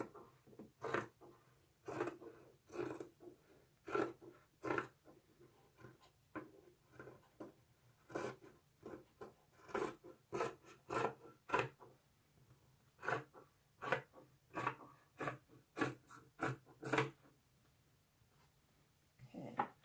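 Scissors snip through t-shirt fabric to cut strips for yarn, giving quiet, crisp repeated cuts in an irregular rhythm, close and faint, with no talking.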